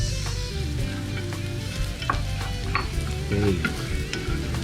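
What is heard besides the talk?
chilies and garlic frying and being stirred in pan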